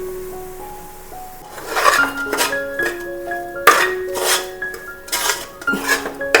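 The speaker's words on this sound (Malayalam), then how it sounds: "നമ്മൾ ഇതൊക്കെ ഇട്ടിട്ട് നല്ലപോലെ കൊണ്ട് ഇളക്കി കൊടുക്കാം" A spoon stirring beef with chilli, coriander, turmeric and masala powders in a pot, giving repeated clinks and scrapes against metal over a soft background of sizzling.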